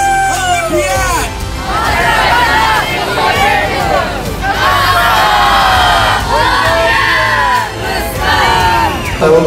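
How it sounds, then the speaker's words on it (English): A crowd at a mathematics olympiad awards event in New York City erupts in loud cheering, shouts and whoops with young voices, rising and falling in waves, likely mixed with applause. "So give yourselves a huge round of applause."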